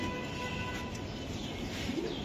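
Racer pigeons held in hand at a pigeon sale, soft low cooing faintly audible amid constant background noise.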